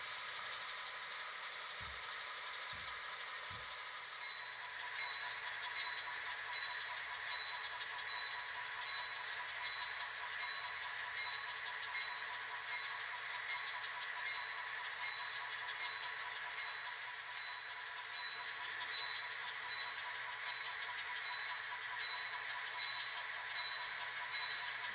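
Model railroad locomotive on the Columbia & Western heading east to the fuel and watering stands at a shop: faint, steady mechanical running hum with a regular ticking rhythm, continuous and fairly quiet, no talking.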